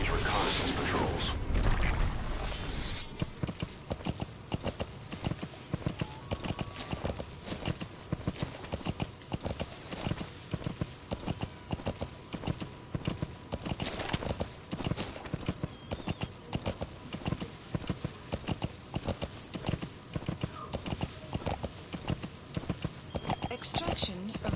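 Steady rhythmic clip-clop of horse hooves at a gallop in the Metal Gear Solid V video game, preceded by a brief neigh, with game voices and radio chatter heard over the hoofbeats.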